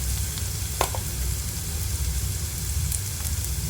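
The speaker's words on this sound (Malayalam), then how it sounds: "അപ്പോൾ അത് സവാളയൊക്കെ ഒന്ന് വഴണ്ട് വരുന്നുണ്ട്" Onions sautéing in a pan for a drumstick-pulp thoran, a steady dense sizzle and frying hiss throughout with a brief stir click near the start, close and continuous with no talk.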